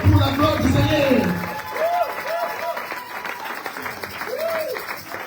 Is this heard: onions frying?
no